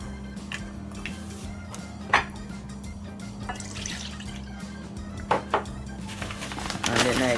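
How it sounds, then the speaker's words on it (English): Almond milk poured into whisked eggs in a home kitchen makes a soft liquid trickle with a few light clinks and drips, heard over a steady low background hum. "I'm just gonna put some almond milk"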